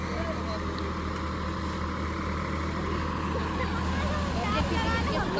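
A tractor engine runs and strains to pull out while stuck, with a steady low idling drone throughout and a crowd's background babble underneath.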